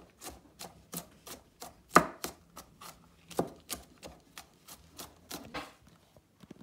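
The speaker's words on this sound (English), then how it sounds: "gonna go ahead and do the chopping of the garlic" A knife chops garlic on a cutting board in a home kitchen, giving about eighteen crisp, close knocks in a steady, slightly uneven rhythm, one stroke sharper than the rest, with quiet gaps between.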